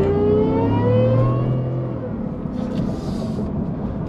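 A 2021 Ford F-150 truck with a 5.0L Whipple supercharged V8 launches on a rough road, its loud engine roar and rising whine sweeping upward, close by and sustained, with faint voices underneath.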